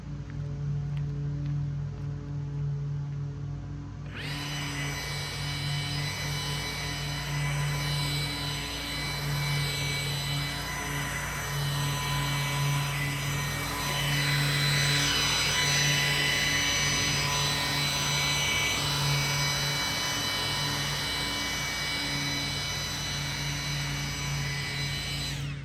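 A Milwaukee Quik-Loc leaf blower starts up after a few seconds of idle tone and runs continuously, a loud steady whoosh with a high whine, surging slightly midway.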